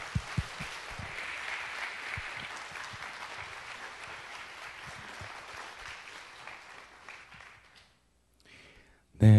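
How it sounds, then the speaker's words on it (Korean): Sustained applause from a church congregation welcoming a pastor at a Wednesday prayer service, dense clapping that fades out after several seconds, followed by a brief louder noise at the end. "크게 박수로 우리 환영하겠습니다."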